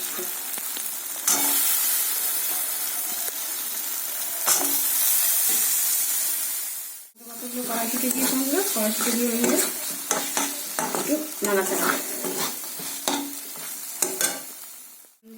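Spice paste with green peas frying in a wok, a loud steady sizzle broken by scraping stirs, a brief pause midway, then bubbling and spatula strokes, with a single spoken word.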